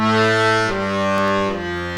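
Sustained organ-like chords step downward in a few distinct changes, each held about half a second or more, played alone without voices.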